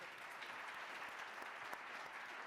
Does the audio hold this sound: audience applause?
yes